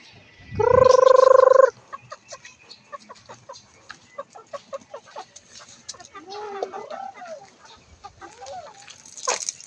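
Chickens, two hens and two stags, cluck and chatter in short, uneven bursts while being fed noodles, starting with a loud sustained electronic-like tone, then scattered nearby clucks and squawks.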